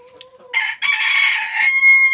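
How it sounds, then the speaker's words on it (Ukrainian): A white bantam Cochin rooster crows once, loud and close, a shrill drawn-out call preceded by faint chirping. "Ще один білий карликовий кухінгін півник."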